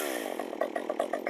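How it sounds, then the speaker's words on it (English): A STIHL MS193T gas chainsaw fitted with a new STIHL chain buzzes briefly and close by, a high, raspy drone that pulses in quick rhythm as it runs. "put a brand new STIHL chain on the STIHL gas powered chainsaw"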